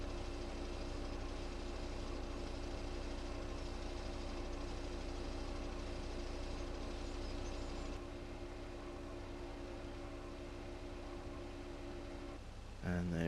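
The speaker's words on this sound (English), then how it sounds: "Let's get our engine on because we're almost ready to drive off." A farm vehicle's engine runs at a steady idle for the whole stretch, a loud, constant low rumble with a faint knock. It drops slightly in level partway through and ends with a brief clatter.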